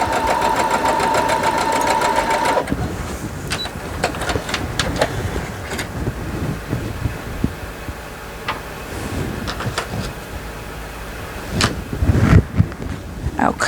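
Sewing machine stitching a quilt block corner to corner, a steady whirring run at the start, then scattered short clicks and fabric handling with brief bursts of stitching, close and fairly loud.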